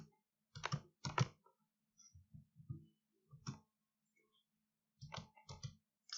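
Computer mouse clicks while drawing in AutoCAD, crisp and close, coming singly and in quick pairs with short silent gaps between them.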